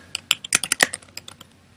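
Fingers type a short name on a computer keyboard, a quick burst of about a dozen crisp, close key clicks in an uneven rhythm that trails off, with no talking.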